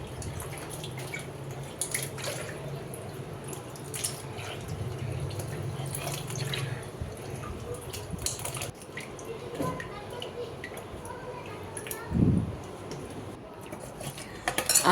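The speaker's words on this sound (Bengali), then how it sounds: "এখানে লাউটা ধুয়ে নিচ্ছি সুন্দর করে।" Chopped bottle gourd (lau) gets washed in water in a kitchen, with sloshing, dripping and light clinks of a metal bowl, fairly quiet, plus a louder knock near the end.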